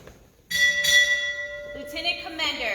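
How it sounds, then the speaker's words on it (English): Ship's bell rung twice at a naval retirement ceremony, two bright metallic strikes close together with a long ringing decay, followed by further resonant tones. "Ring, 2 bells."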